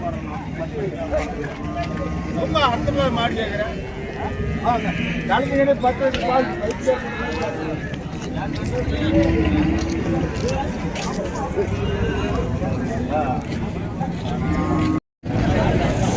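Cattle at a large native cow market in Matrapalli, with livestock calls mixed into a busy crowd and continuous talk throughout, steady and fairly loud with a brief dropout near the end.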